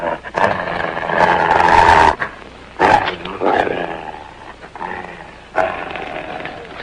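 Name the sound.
dog growling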